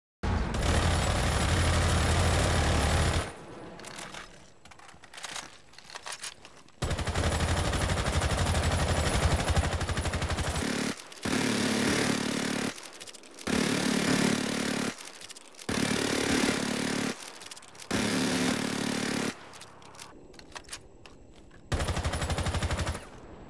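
Rainbow Six Siege M762 rifle fired in repeated full-auto bursts while testing recoil-control muzzle attachments; loud, close gunfire comes in several sustained strings separated by short silent pauses, with no voices.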